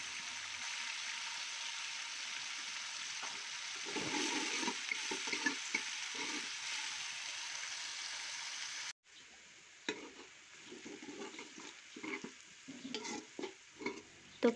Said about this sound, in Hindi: प्याज डाल के और प्याज को हम अच्छे से फ्राई कर लेते हैं।